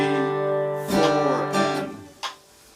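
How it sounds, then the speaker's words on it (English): Acoustic guitar chords strummed and left ringing, with a few fresh strums cutting in, close and fairly loud, no voices. "So you may have noticed we're strumming on the first beat, letting it ring."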